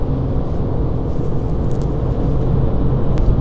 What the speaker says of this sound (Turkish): Rüzgar sesi var biraz arkadaşlar.